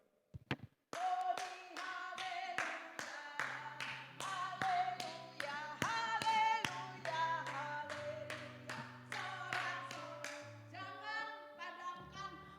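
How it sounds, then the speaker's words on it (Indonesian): Hands clap in a quick, regular rhythm, close and crisp, over sustained musical tones, continuing for about twelve seconds after a couple of isolated taps. "saya tepuk tangan seperti anak SD"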